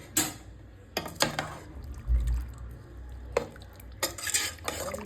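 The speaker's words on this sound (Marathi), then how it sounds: "आता हवा गेली, कुकर ओपन करते." Opening a pressure cooker of goat-head mutton curry brings several sharp metallic clanks of lid and utensils, followed by spoon scrapes and stirring against the pot, all close and intermittent.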